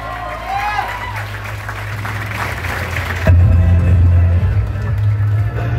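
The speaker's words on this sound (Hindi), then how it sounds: "तो आप सभी लोगों के लिए एक बार जोरदार ताली होनी चाहिए।" Strong applause and crowd noise from an audience at a leadership development program event fill the space, growing fuller and louder partway through and holding steady to the end.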